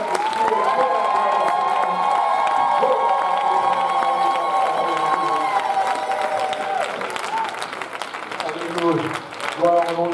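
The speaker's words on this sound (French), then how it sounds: "Voulez-vous battre vos mains, vaillants héros? Poussez des cris de joie, des cris de joie." A church congregation at a revival service cheering and shouting for joy, a loud sustained crowd roar with whoops and applause, steady throughout with voices over it.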